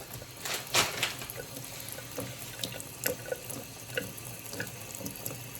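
Water runs steadily from a kitchen tap for a pet to drink, with a few splashes and drips over the stream, at moderate level and without talk.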